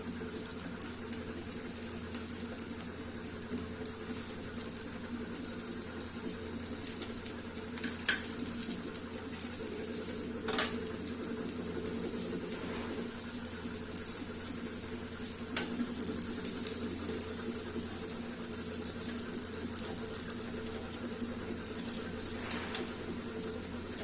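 Sweet potato cutlets frying slowly in oil, a quiet steady sizzle with an even hiss and a few faint clicks and scrapes now and then, no talking.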